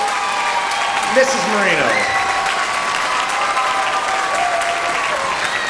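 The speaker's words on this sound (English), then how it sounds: "Can we have a big round of applause for our story creator and narrator" A crowd applauds after a children's puppet and violin story performance, thick sustained clapping throughout, with a brief spoken voice and a few tonal sounds rising early over the steady ovation.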